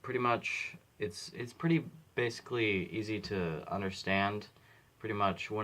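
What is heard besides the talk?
No distinct noise like a dog, phone or traffic.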